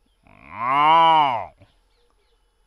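A cow in a village gives one long, loud, close moo lasting over a second, followed by quiet and a faint click, with no talk.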